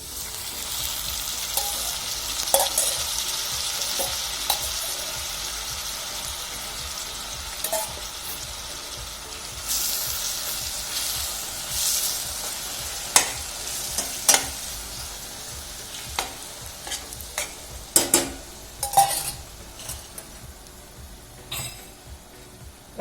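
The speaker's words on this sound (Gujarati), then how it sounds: "હવે હું આમાં ભાજી એડ કરી લઉં છું" Amaranth greens (tandalja bhaji) are added to a hot pan and stir-fried. Oil sizzles steadily, with scraping and clattering stirs growing sharper and more frequent toward the end. No one speaks.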